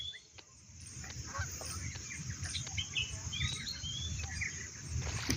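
Cartoon birds squawk and honk in a busy, overlapping chorus of short calls over a steady low rumble, fairly close and continuous throughout.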